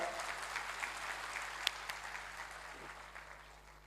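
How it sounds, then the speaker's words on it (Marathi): An audience claps together at a gathering, a faint, steady wash of hand claps from some distance, with one sharper clap standing out briefly. "पहिले जोर जोरदार टाळ्या"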